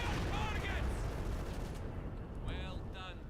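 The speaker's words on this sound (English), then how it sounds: "Howitzer barrage, or shot, not barrage, goes right on top of the bunker" A howitzer shell fired and landing in the World War II strategy game Company of Heroes 2: a loud, sustained booming blast with a dense rumbling tail, with faint voice-like tones over it.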